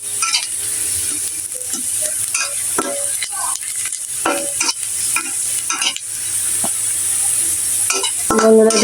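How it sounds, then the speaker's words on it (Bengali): Chopped onion sizzling and frying in hot oil in a home kitchen pan, stirred with a utensil in steady scraping strokes, with occasional light clinks of metal against the pan. "এই যে পেঁয়াজটা আমি বাদামি কালার করে ভেজে নিয়েছি"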